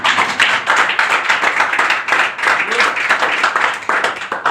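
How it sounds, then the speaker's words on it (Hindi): Group of people clapping hands in a training session, dense steady applause throughout, loud and close with scattered individual claps. "ताली बजा दो।"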